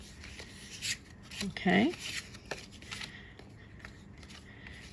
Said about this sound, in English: I hope a quick flip through gives you some idea of what's in this card pack